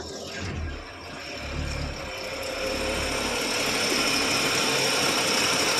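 An old 1972 Chevy K10 pickup truck engine turns over and catches, settling into a steady running rumble that grows slightly louder and holds, close by, with a minor exhaust issue.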